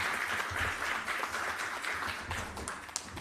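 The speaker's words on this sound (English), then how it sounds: "Very lovely applause for 2 wonderful presentations" Brief applause from an online health research conference audience following two presentations, a steady broadband patter of clapping at moderate level throughout, with no voices.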